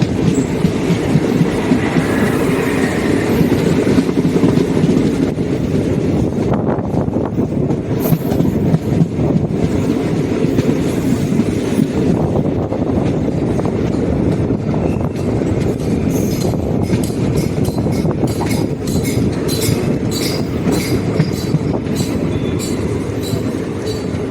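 Continuous loud rumble of a passenger train running on rails between Trichy and Karur, India, heard from inside, with rhythmic clickety-clack of wheels and faint squeals toward the end.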